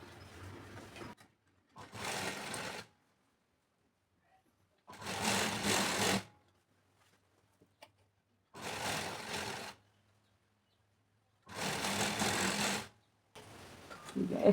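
A sewing machine stitches a lining blouse in five separate bursts of rapid mechanical whirring, each a second or so long, with quiet pauses between them.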